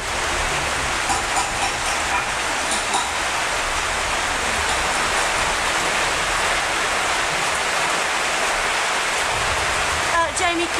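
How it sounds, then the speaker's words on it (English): Heavy tropical rain pours down in Langkawi, a dense, loud, unbroken hiss of rainfall close by, with a few faint voices buried under it. "but first we have to sit out the rain."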